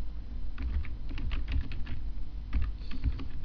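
Rapid typing on a computer keyboard close to the microphone, bursts of clicking keystrokes with short pauses in between over a low steady background hum.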